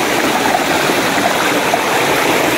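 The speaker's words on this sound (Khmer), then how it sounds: "ទឹកធ្លាក់កន្លែងនេះស្អាតណាស់" A forest mountain waterfall pours in a steady, loud, close rush of broadband water noise, unbroken and with no voices.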